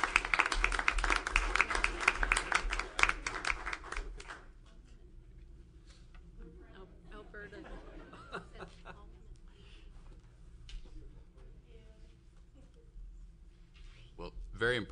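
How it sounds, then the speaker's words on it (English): An audience at a school board meeting applauds the teachers of the year, a loud round of clapping at the start that fades into quiet talk and room murmur. "So one more round of applause as these folks take this."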